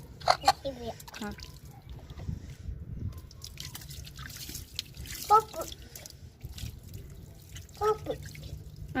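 Water poured during a bath, dripping in scattered splashes and trickles, with people talking nearby between the drips.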